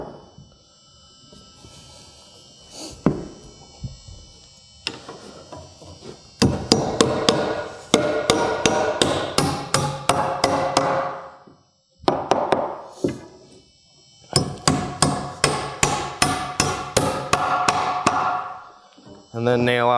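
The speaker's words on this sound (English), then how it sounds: "Get these nailed in place." A hammer nails studs into wall framing in quick bursts of sharp, close whacks, with rapid strings of blows separated by pauses, and a voice talking briefly between the bursts.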